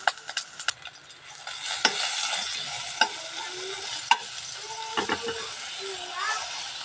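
Dried danggit and small dried fish fry in a pan with a quiet crackle, broken by sharp clicks and clatters of a utensil stirring, while voices and children are heard in the background.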